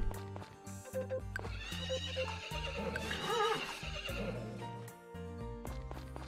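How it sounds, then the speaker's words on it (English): A horse in the farming game Story of Seasons: Friends of Mineral Town gives a loud, clear whinny alongside clip-clopping hooves, over steady game background music. "there's my horse"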